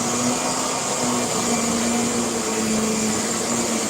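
A Centria 2 vacuum cleaner runs with a steady, loud motor whine and airflow hiss, constant and unbroken throughout with no pauses.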